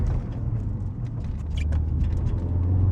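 A Ford Focus RS MK3 fitted with a COBB air intake drives along a road, its engine giving a steady, deep, throaty rumble that swells slightly toward the end.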